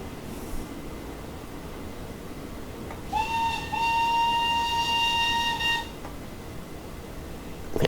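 A steam locomotive whistle from an LB&SCR K Class 2-6-0 in Train Simulator Classic: a short chirp, then a sustained clear multi-tone blast lasting about two seconds over steady rumbling locomotive noise.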